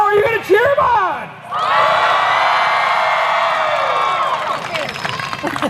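A large crowd at a renaissance faire cheers, whoops and shouts for a knight entering the field, a loud sustained roar of voices that swells after a brief lull and rings on with scattered high yells.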